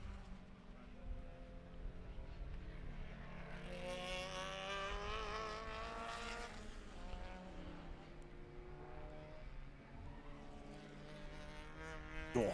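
A race car in a time attack session at Alpine Horizon approaches and passes on the track, its engine note rising loud and sweeping in pitch as it draws near, then fading, with commentary voices over it.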